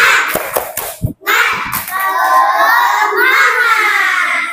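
Third-grade children in a classroom do a rhythmic clapping chant, a few sharp, close handclaps in a quick pattern followed by young voices chanting together loudly.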